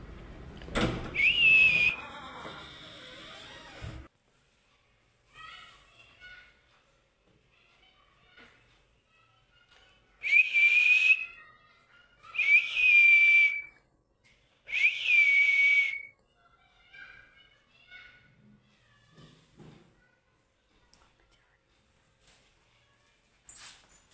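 A pet bird gives several loud, shrill whistling calls in short bursts, separated by quieter chirps and faint background noise.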